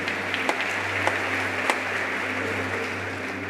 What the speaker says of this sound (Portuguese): Pode dar um aplauso.